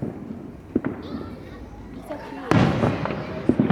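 Fourth of July town fireworks burst outdoors, several sharp bangs with one loud boom and crackling after it, while people talk nearby.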